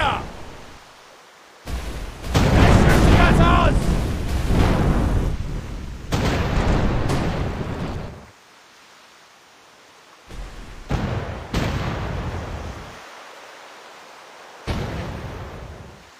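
Ship cannons firing in The Pirate: Caribbean Hunt, a naval battle game. Several loud, booming blasts roll out over a few seconds with gaps of quieter ambience between them, and voices can be heard in the mix.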